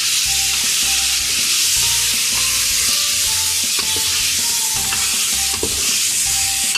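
Spices of red chilli powder, dried coriander and turmeric being stirred in a pan while frying for a lauki gosht, with steady loud sizzling and rhythmic scraping strokes throughout.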